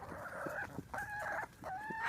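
Buff Orpington chickens clucking, with a rooster crowing in three drawn-out calls, fairly close and clear, with no talking.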